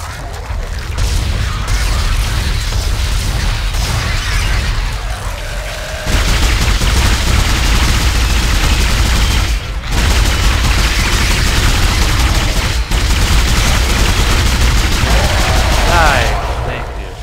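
Heavy automatic pulse rifle fire from the Dead Space video game, dense and loud, rattling in long sustained bursts with brief pauses and booming impacts, filling the whole stretch.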